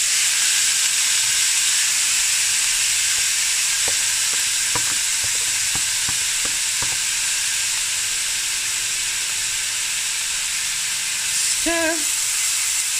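Onions frying in a pot with cinnamon, clove and allspice for a Cape Malay tomato ox trotter stew, a loud steady sizzle with scattered light stirring clicks and a short tonal squeak near the end.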